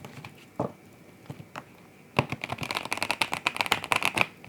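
A deck of cards is shuffled by hand, starting with a few isolated soft taps before breaking into a fast, rapid riffle of crisp flutters, quiet and close.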